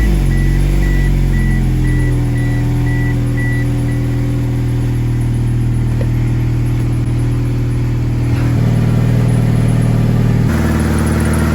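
A 1997 Mitsubishi Eclipse project car idling loudly and steadily close by, its engine hum shifting pitch slightly as it revs near the end, with no voices.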